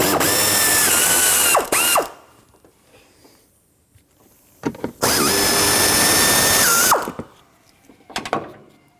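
A power ratchet or socket wrench spins out 10mm mounting bolts from the upper fan shroud of a 1997-2004 Dodge Dakota, two loud whirring bursts of about two seconds each separated by quieter clinks and handling noise.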